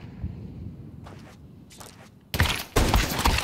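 A few bursts of AK rifle fire in a Counter-Strike match at IEM Katowice 2025, coming in broadband cracks after a quieter stretch with faint footsteps and clatter. No one speaks.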